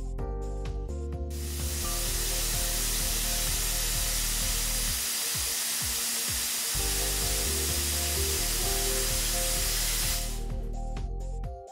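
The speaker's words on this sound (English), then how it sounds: "observing the feed wheel at the bottom of the hopper turn while releasing air from the blasting gun" Compressed air blasts from a Commando AP dry ice blasting gun in one long, loud, steady hiss lasting about nine seconds, with a low machine hum before and after it.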